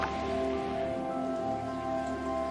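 Rain in the video game Terra Nil makes a soft, steady patter and hiss that holds for the whole stretch, with sustained musical tones underneath.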